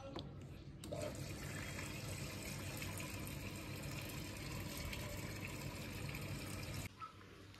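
A washing machine fills with water: a steady rushing hiss starts abruptly, runs evenly for about six seconds, then cuts off, fairly quiet and close.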